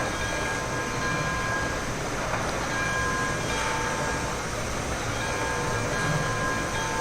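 A locomotive in the Railroads Online railway simulation game, giving a steady, continuous rolling rumble with a faint hiss throughout and no voices.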